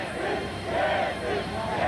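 Crowd of demonstrators gathered around tanks on a Moscow square, a dense, continuous murmur of many voices with swelling shouts, heard at a middle distance.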